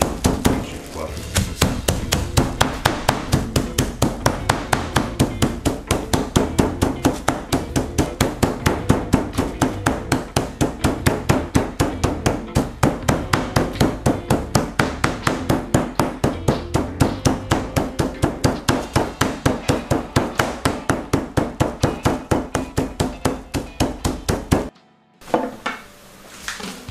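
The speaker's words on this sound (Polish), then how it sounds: "I młoteczkiem rozbijamy tak, żeby nie przedziurawić naszych kładów." A meat mallet pounds pork loin slices for cutlets in rapid, steady repeated thuds that continue for about twenty-five seconds, close and loud, before stopping abruptly.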